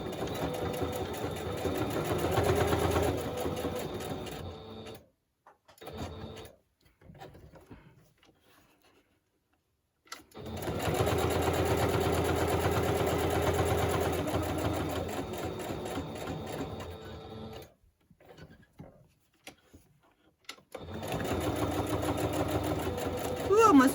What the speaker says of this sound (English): I'm going to do it in a straight stitch